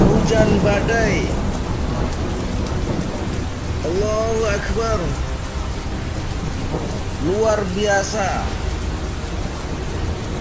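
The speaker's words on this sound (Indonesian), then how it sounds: "Hujan campur angin kencang." Heavy rain pours steadily in a violent storm over Madinah, with rumbles of thunder under the downpour and voices calling out excitedly over the roar.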